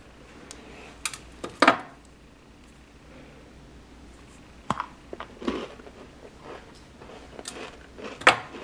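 Close, crisp bites and crunches of a dense, sweet 1985 survival ration food bar, a few sharp cracks spread across the stretch with quieter chewing between them.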